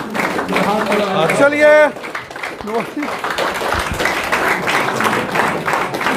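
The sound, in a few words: applause for Karamat Malik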